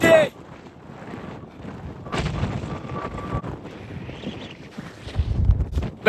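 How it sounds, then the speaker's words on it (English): Strong wind gusts buffet the microphone on an exposed hilltop at a camp on Long Mynd, UK, with uneven rumbling bursts and a sharp gust near the start. "It's so windy."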